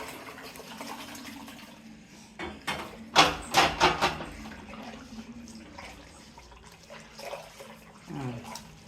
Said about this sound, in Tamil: நல்லா சுத்தண்ணி எடுத்து ஊற்றிக்கிங்க இந்த பைக்குள்ள